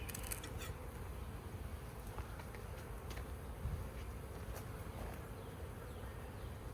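Dense, steady buzzing of many bees around a beehive being inspected at the start of the season, a continuous close swarm drone with faint intermittent clicks and knocks and no voices.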